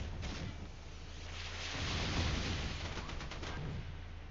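Missile launch in a naval combat video game: a sustained rushing, roaring burst that swells in the middle and stays dense across the whole stretch, with steady low engine rumble underneath and no talk.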